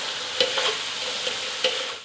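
Fish is added to sambal frying in hot oil with oyster sauce, giving a steady, close sizzle punctuated by a few sharp stirring clacks, with no talking.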